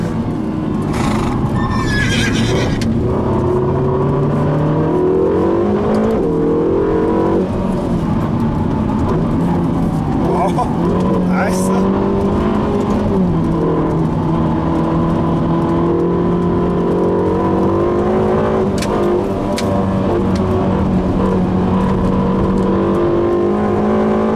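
A Ferrari California T engine revs up and down repeatedly on a race track, a loud sustained whine rising and falling in pitch over about twenty seconds.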